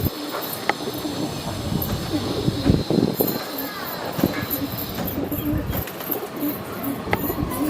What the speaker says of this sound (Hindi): और कबूतर उड़ भी रहे हैं कुछ।